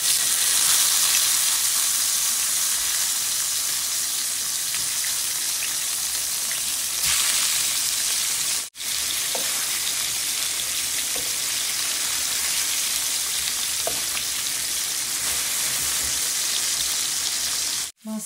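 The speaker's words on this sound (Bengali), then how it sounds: "এখন আমি তেলাপিয়া মাছটা ফ্রাই করবো।" Tilapia fish fries in hot oil with a loud, dense, steady sizzle and crackle heard up close, with a brief dip midway and near the end and no talking.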